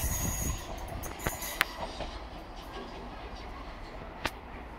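A Merseyrail express train rumbling past nearby at Brunswick, a steady roar broken by sharp metallic clanks and a brief wheel squeal.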